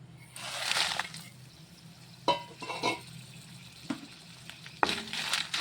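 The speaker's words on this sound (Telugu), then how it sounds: "ఎండుమిరపకాయలు వేయించుకుందాం." Dried red chillies fry in a couple of spoons of oil for munagaku karam podi, with soft sizzling broken by intermittent scraping and stirring clatters of a spoon against the pan.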